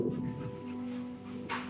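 A real puppy pants softly and steadily at close range in a quiet room, with a faint low hum underneath and a brief rustle at the end.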